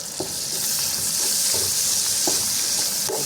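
Onion stirred and sautéing in hot rendered pork oil in a pan for sotanghon pansit, a steady close sizzle with a few scraping stirs of the utensil and no talking.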